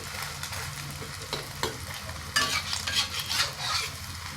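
Egg-dipped bread sizzles steadily in a hot pan, with a soft stirring scrape near the start and a louder burst of frying crackle midway that carries on to the end; no talking.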